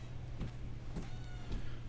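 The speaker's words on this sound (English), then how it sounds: "I gotta go deal with the cat." A domestic cat meows three times at a steady pace, fairly quiet and close, over a low constant hum.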